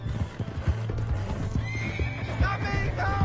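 A horse in the Western video game Red Dead Redemption 2 gallops with rapid hoof clip-clops and lets out a loud whinny, with voices faintly underneath.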